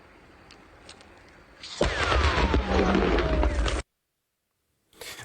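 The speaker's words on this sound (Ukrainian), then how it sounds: "місцеві кажуть, що чули вибух і виклали ось таке відео" A sudden loud blast erupts after quiet, followed by a couple of seconds of rumbling roar before cutting off abruptly; faint talk in the background.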